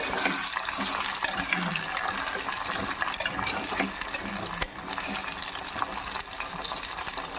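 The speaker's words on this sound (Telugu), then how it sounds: "ఈ ముక్కలు చికెన్ ముక్కలు వేసేసుకొని మంచి కలర్ వచ్చిందాక ఫ్రై చేసుకుందాం" Chicken pieces frying in hot oil for pickle, a dense, continuous bubbling sizzle that stays loud and steady throughout, with faint occasional clinks.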